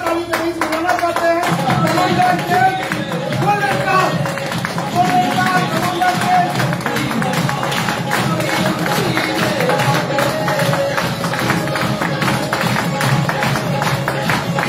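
A large audience clapping loudly in rhythm at a company event for IMC, the rapid clapping blended with loud music throughout, a host's voice briefly heard at the start.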